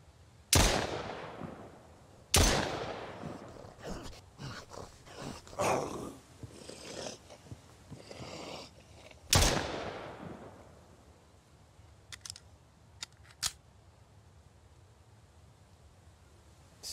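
Gunfire in the survival video game Mist Survival: three sharp, loud shots spaced over several seconds, with scattered footsteps and quieter movement sounds between and after them, no talking.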